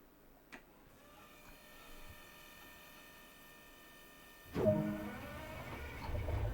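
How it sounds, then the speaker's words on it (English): Diesel engines on a Dresden regional train in Train Sim World 2 start up, a low rumble surging in near the end over a steady cab hum, after a single click. "To start the engines, press the engine start switch."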